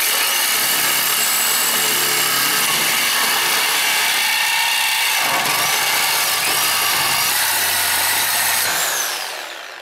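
A reciprocating saw fitted with a bi-metal multi-purpose blade cuts through a rusted broken bolt, a loud, harsh continuous buzzing rasp that holds steady for several seconds before winding down at the end.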